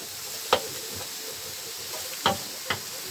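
Red and green peppers sautéing in a pan for a seafood paella, a steady sizzle and hiss broken by three sharp knocks of a utensil against the pan.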